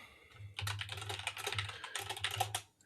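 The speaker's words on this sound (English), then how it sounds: "let me know at home if you can hear me typing too" Rapid, uneven clatter of keys being typed on a computer keyboard, close up, in short bursts with no one speaking.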